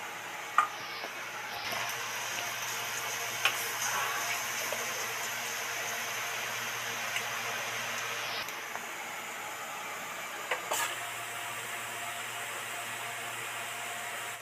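Yellow-coloured besan (gram-flour) batter for boondi drops into hot oil, making a steady, fairly faint frying hiss with a few small crackles scattered throughout.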